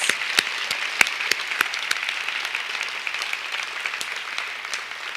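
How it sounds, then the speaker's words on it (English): Sustained audience applause at a university fall convocation ceremony, dense steady clapping with a few sharp louder claps standing out, continuing without pause. "A round of applause again, please, ladies and gentlemen,"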